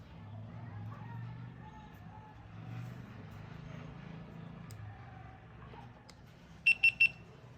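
A quiet voice talks under a low hum, then a GoPro Hero 9 camera powering on gives three short, high, evenly spaced beeps near the end.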